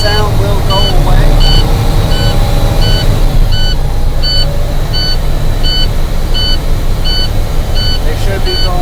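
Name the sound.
truck low air pressure warning sound during air brake build-up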